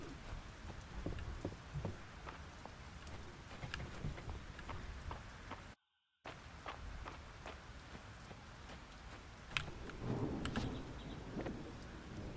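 Steady rain falls in the Fields of Mistria video game, a dense, even patter that continues with only a brief drop-out partway through, no voices present.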